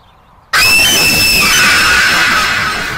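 A sudden, very loud, piercing scream bursts in after a brief quiet and holds steadily at full strength, shrill and close, tapering only slightly toward the end.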